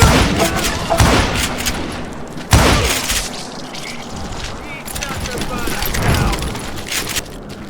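Gunfire in the Call of Juarez Gunslinger video game: loud, close shots crack out in bursts, including a heavy blast near the start and more volleys later, under excited game dialogue and shouting.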